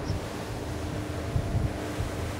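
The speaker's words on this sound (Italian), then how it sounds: "Eppure le onde sono alte e anche il vento spinge dallo stesso lato del mare." Wind and high waves at sea aboard a Cranchi A46 Luxury Tender motor boat with Volvo Penta power: a steady, broad rushing wash of wind noise and water with low rumbling surges, no voices.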